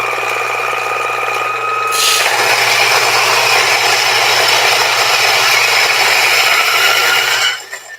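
A $600 coffee grinder runs loud and steady for about seven seconds with a harsh, rattling chatter while grinding, then winds down at the end. No one speaks.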